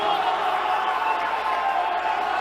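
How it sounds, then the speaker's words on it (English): At a high school boys' basketball game, the Mount Zion home crowd in the gym roars in a dense, sustained wall of cheering and yelling that stays steady and loud throughout. "The Mount Zion crowd behind me clearly loved the technical call, as you can hear from behind me"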